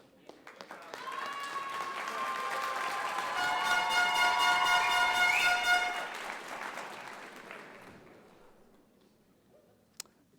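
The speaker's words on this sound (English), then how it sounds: "You get to get clapped at." Audience at a high school graduation ceremony claps steadily, building to a dense peak of applause and then tapering off, with a lone clap near the end.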